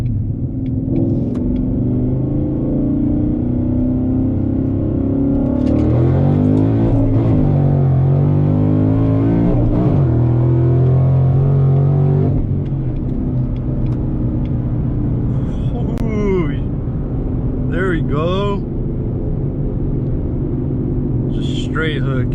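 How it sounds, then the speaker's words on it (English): A 2018 Ford Mustang GT on Mickey Thompson ET Street tires makes a first-gear pull with traction control off: loud, close V8 roar rising steadily in pitch, then easing off to a throbbing idle with chirpy tire or drivetrain squeaks near the end. "little first gear pull here for you guys with traction control off"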